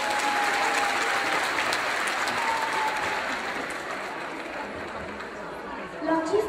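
Sustained audience applause at a concert in Rome featuring singers, a dense steady wash of clapping with crowd chatter underneath, fading slightly toward the end.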